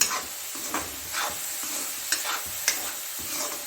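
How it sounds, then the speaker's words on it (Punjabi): Peas for tikki roast in a pan, with light sizzling and a series of sharp scraping stirs and taps spaced unevenly over a few seconds, close by and without talk. "ਇਸ ਤਰ੍ਹਾਂ ਕਰਕੇ ਜਿਹੜੇ ਆਪਣੇ ਮਟਰ ਆ ਉਹਨਾਂ ਨੂੰ ਇਦਾਂ ਭੁੰਨ ਲੈਣਾ ਜੀ"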